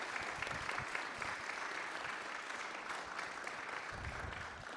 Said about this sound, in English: a round of applause for these wonderful people who have helped us